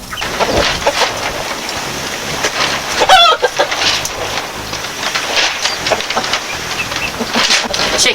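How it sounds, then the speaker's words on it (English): Chickens cluck and squawk inside an allotment coop, with a busy, overlapping chorus of close, loud calls that runs throughout and a sharper squawk near the middle. "Chickens."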